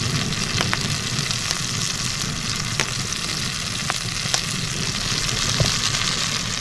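Pot roast searing in a Dutch oven, giving a steady, close sizzle and crackle of hot fat with occasional sharp pops, no talking over it.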